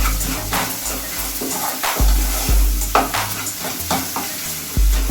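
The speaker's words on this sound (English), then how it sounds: "Keep stirring it." Turmeric and asafoetida are stirred in a hot pan for a garlic kara kuzhambu, with a loud, continuous sizzle and repeated spoon scrapes and knocks against the metal, close up.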